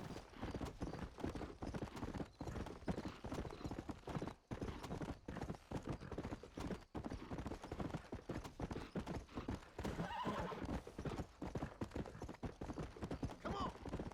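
A horse's hooves clip-clop in a quick, steady rhythm in the video game Red Dead Redemption, close and continuous, with faint talk underneath.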